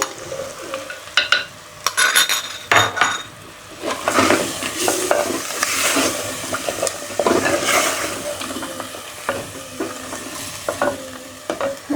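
Fried, ground onion paste stirred into spices in a pan for Punjabi-style chicken arvi gosht, with steady loud sizzling and scraping spoon strokes throughout, close by, no talking.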